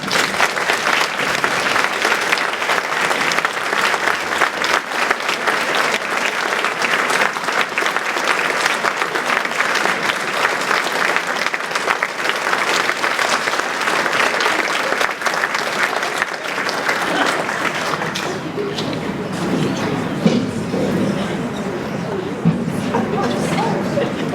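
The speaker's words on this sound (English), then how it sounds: "Let's show all of our reunion representatives our appreciation with a round of applause." A brunch audience honoring reunion representatives at an alumni recognition event breaks into sustained, loud applause from a large crowd, continuing evenly and thinning toward the end as murmured chatter comes through.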